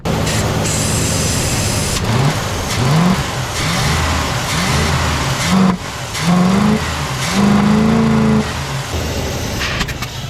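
Chevrolet Suburban engine with a carburetor intake leak, revving up and down in repeated surges at close range with a rough, uneven idle between them.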